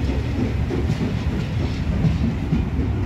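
A very long passenger train hauled by the steam locomotive 6233 Duchess of Sutherland rolls past close by, a steady loud rumble with rhythmic clatter of wheels over rail joints throughout.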